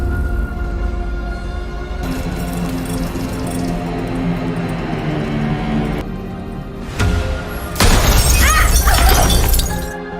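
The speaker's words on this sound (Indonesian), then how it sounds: "pecahan lampu membuat mata Erika kelilipan" A lamp's glass shatters loudly near the end, a sharp burst of breaking fragments following a dramatic musical score and rumbling effects.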